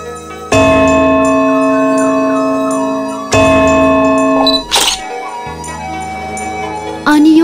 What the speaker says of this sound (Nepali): अनि यो मन्दिरको घण्टीको आवाजमा कति मिठास छ